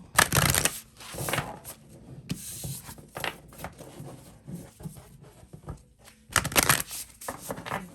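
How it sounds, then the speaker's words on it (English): Tarot cards shuffled and cut by hand in bursts of papery riffling and slapping, loudest at the start and again near the end, with softer handling between and no talking. "Every time I cut the deck just now"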